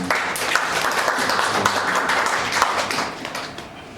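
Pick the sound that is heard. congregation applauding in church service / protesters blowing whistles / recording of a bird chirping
congregation applauding in church service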